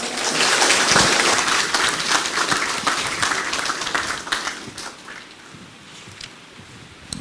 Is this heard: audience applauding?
yes